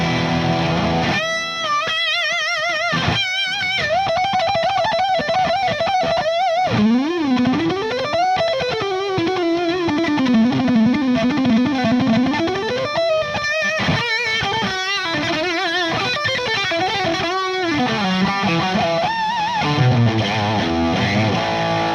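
Electric guitar played through a JHS Moonshine Overdrive pedal at high gain, a loud, saturated distorted tone with sustained bends and melodic runs alongside choppy chord stabs, continuous and alone.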